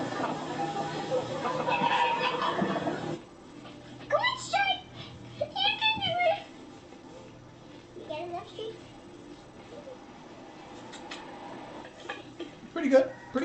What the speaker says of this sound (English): Oh my God, it's a chicken parade.